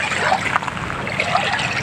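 Shallow seawater at low tide along a shore trickles and laps steadily at close range, a continuous watery wash with no clear talk.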